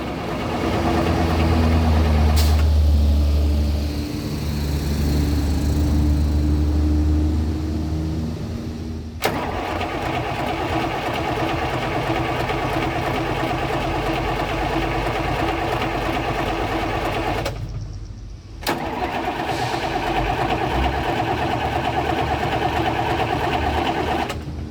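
A turbocharged diesel engine cranks and catches, then settles into a steady, loud rumbling idle that runs continuously, with a brief cut partway through.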